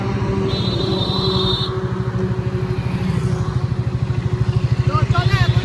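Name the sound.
Triumph 350cc motorcycle running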